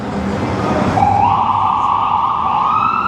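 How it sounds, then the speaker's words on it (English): An ambulance siren wails steadily and rises in pitch partway through, loud and fairly close over a constant wash of Manhattan street traffic noise. "Gotta watch out for the ambulance."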